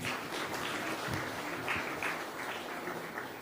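A conference audience at India Chem 2021 applauds an Indian government official, a dense, even wash of many hands clapping that sounds somewhat distant and fairly soft, with no talk.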